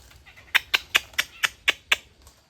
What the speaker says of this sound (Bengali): এইগুলো পাখির বাচ্চা।